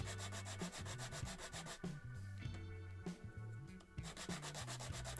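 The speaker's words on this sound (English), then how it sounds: "And then just gave them a quick sanding down on a flat surface to remove any rough parts." Plastic pipe hand-sanded against a flat surface, steady back-and-forth rubbing strokes close up and fairly loud, with a brief pause in the middle before the rhythmic scraping resumes; no voices.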